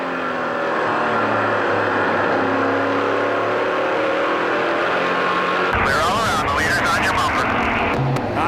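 Stock cars race at the A&W 300, a sustained engine roar with a pack rushing past partway through, under continuous commentary.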